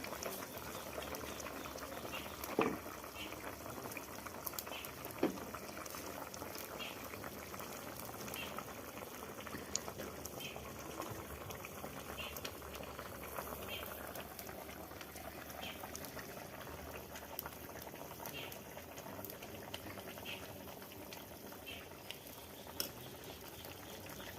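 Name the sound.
helencha greens boiling with vegetables in a pot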